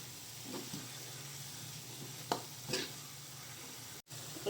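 Vegetables seasoned with garlic, oyster sauce, fish sauce and stock powder fry in a pan while being stirred, giving a steady close sizzle broken by a few scraping strokes, with no voices.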